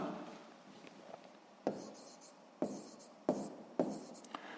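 A pen writing by hand in a notebook while a math exercise is worked out, with soft scratchy strokes and several sharper taps as the pen meets the page, close and quiet with no voice.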